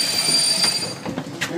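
Steady rumble of a train in motion, with a faint high wheel squeal and brief metallic clicks, heard from close by with no talking.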